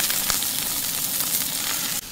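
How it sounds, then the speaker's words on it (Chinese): Oysters frying in a little hot oil in a pan, a dense loud continuous sizzle and hiss that holds steady, then drops abruptly near the end. "咱把生蚝啊煎至两面金黄"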